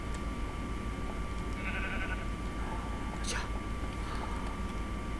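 A Minecraft sheep lets out a short bleat during a survival game, thin and moderately close, set against a steady background hiss with faint murmuring voices.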